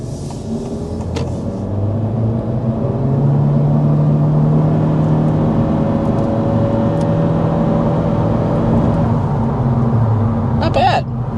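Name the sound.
2024 Honda Civic accelerating uphill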